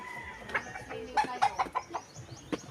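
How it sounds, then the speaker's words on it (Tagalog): Chicken clucking near a rural hut, a series of short, uneven clucks and squawks spread across a few seconds at close range, with no talk. "Manok."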